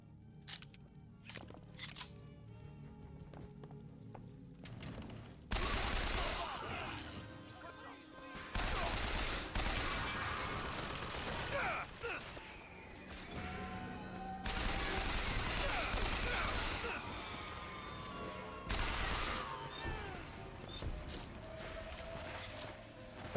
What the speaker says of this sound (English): I still hear gunshots.